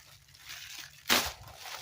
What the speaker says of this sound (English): So let's unpack the other sketchbook right now.